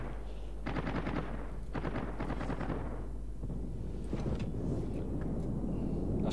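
Anti-aircraft guns aboard the French battleship Dunkirk in World of Warships, firing in rapid rattling bursts, fairly faint under the game's background din.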